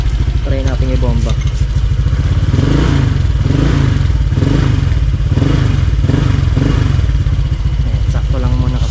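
A motorcycle engine is revved close up, its idle rising into several short throttle blips with a rhythmic rise-and-fall pattern over a steady mechanical clatter.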